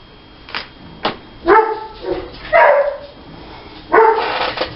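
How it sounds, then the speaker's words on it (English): A dog barks in a quick series of sharp, close yips and woofs, roughly five bursts spread unevenly with brief pauses between, loud against a quiet indoor background. "Sorry about all that barking."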